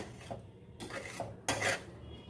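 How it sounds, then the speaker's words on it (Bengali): A spatula scrapes and spreads grated taro mixture across a kadai over low heat, giving a few close, uneven metallic scrapes and rubs, with a louder stretch near the end. "পুরো কড়াইতে এরকম করে ছড়িয়ে দিলাম"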